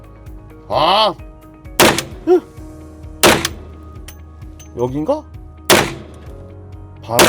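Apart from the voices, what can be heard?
Desert Eagle pistol gunshots at an indoor shooting range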